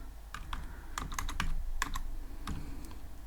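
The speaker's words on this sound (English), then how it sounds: "Now I'm gonna type here." Python code being typed on a computer keyboard: close, crisp keystrokes in irregular bursts and single taps, with no talking.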